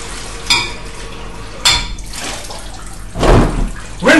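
A container being rinsed out under a running tap: clattering knocks against the vessel, then a louder rush of splashing water near the end, close and fairly loud.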